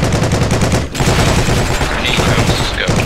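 Rapid gunfire in a World War II–style shooter game featuring an M1 Garand rifle, loud and close, with repeated shots in quick succession, a brief pause near the one-second mark, then more firing.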